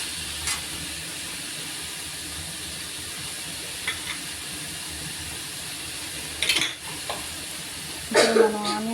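Chicken frying in a pan with onion paste gives a steady, even sizzle throughout, with a few scattered utensil scrapes and clinks against the pan near the end.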